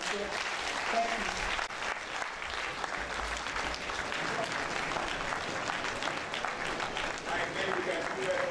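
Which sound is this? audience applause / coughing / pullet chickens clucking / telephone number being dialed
audience applause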